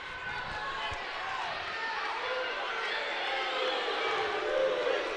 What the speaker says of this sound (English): The crowd's wanting the two.